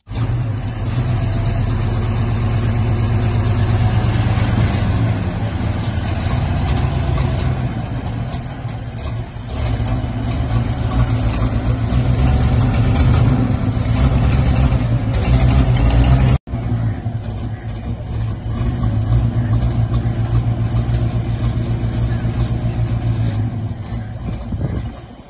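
A 1920-model vintage car engine running on city roads in Karachi, a steady low rumbling drone that holds for about 25 seconds with a brief cut partway through, loud and close with no talking.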